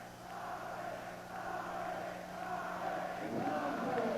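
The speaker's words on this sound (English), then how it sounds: "here we have the crowd getting back into it." A kickboxing crowd in the arena rumbles with a broad, sustained roar of cheering and shouting, building slightly louder toward the end as the fight is about to resume.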